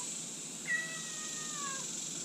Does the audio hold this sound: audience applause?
no